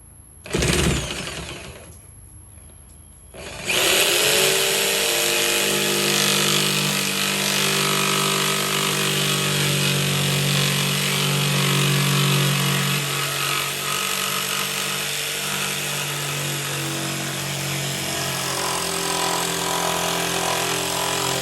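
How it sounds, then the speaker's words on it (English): A circular saw makes a plunge cut, whining up from a short start into a long, steady, loud cutting roar that holds for most of the stretch. "There you are, plunge cut."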